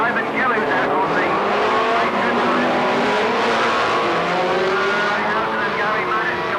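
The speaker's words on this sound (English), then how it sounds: "and Gary Maddox complete the very large grid of cars which are headed down into Cheston's by the Fiesta of Anthony Ashwell" Rallycross cars racing at Lydden Hill in a 1986 winter series, including Minis, form a loud, continuous engine roar as the pack revs and passes, with commentary talking over it throughout.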